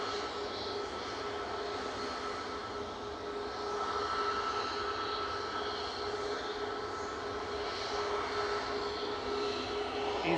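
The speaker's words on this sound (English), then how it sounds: "EasyJet just landed." An EasyJet airliner landing at Manchester Airport, its jet engine roar steady and broad, moderately loud from a distance, swelling slightly midway with no talk over it.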